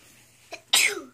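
A single sneeze rings out at a family Christmas gift opening, a faint intake followed by a loud, sharp burst that trails off, in a quiet room with no talk over it.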